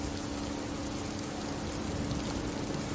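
Steady rain falls as an even, dense hiss, moderately loud and unbroken, with no voices over it.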